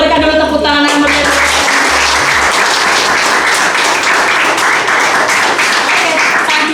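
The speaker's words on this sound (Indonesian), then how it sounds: "adik-adik coba berikan dulu tepuk tangan yang meriah" Children at an orphanage charity event in Indonesia burst into loud, sustained clapping that fills the space, following a brief spoken prompt at the start.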